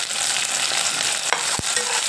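Browned onions and freshly added tomatoes sizzle loudly and steadily in a pan for a dosa recipe, with a couple of short scraping stirs of a spoon cutting through the constant frying hiss.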